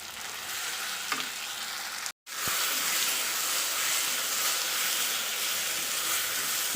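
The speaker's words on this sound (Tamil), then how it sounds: "நம்ம இதை மூடி போட்டு ஒரு 10 நிமிஷம் நல்லா வதக்கி எடுத்துக்கலாம்." Brinjal and tomato with curry leaves sauté in a pan with a steady, close sizzle and frying hiss that cuts out briefly, then resumes.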